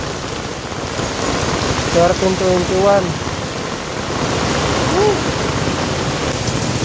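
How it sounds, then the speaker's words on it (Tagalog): Heavy rain pours down steadily, a loud dense hiss of drops hitting surfaces throughout, while someone speaks briefly over it and a few short voices come through the downpour. "Lakas ng ulan."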